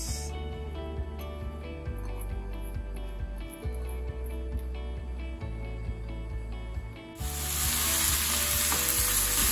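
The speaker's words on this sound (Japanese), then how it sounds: "そして火をつけて、先ほど切ったネギを投入していきます。" Chopped green onions sizzle and fry in a tablespoon or so of sesame oil over medium-high heat, making a steady, close crackle that grows louder and brighter near the end as the pan is stirred.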